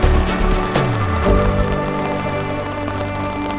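Rain falling steadily in Luxembourg city, a constant close wash of drops with no break across the clip and no talk over it.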